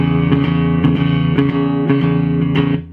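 A clean electric guitar repeats a short shuffling blues riff, notes plucked in an even rhythm, close and steady for a few seconds.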